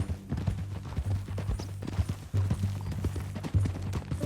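Horse hooves clip-clop at a steady walking pace in the video game Red Dead Redemption 2, the footfalls close and clear over a low background hum.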